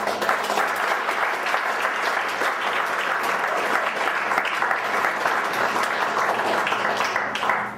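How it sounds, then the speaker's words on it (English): Audience applause for a presenter at the close of a Q&A session, a full, sustained round of many hands clapping evenly for several seconds before tapering off. "I'd like to offer a round of applause for Nathan."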